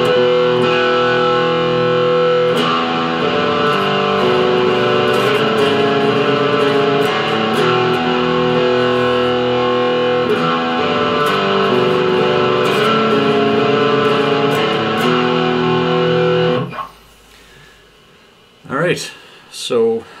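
Distorted electric guitar plays an intro riff slowly, a repeating pattern of ringing notes, loud and close, then it stops and a voice begins talking near the end.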